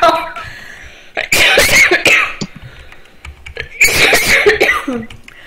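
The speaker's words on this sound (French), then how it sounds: "Faut que j'arrête de rigoler parce que ça me fait tousser." Several harsh bursts of coughing come in two clusters, loud and close, mixed with breathy sounds and a little laughter.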